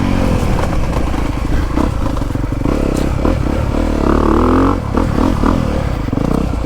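A 2022 Honda CRF250R dirt bike rides through woods, its 250cc four-stroke engine droning steadily with revs rising and falling, near and loud, over clattering and scraping from the trail.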